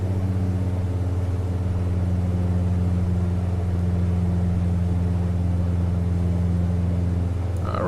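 A Saab 340A turboprop in X-Plane 11 drones with a steady, loud engine hum and strong tonal buzz that holds evenly as the props are brought back in RPM, with a faint shift at the very end.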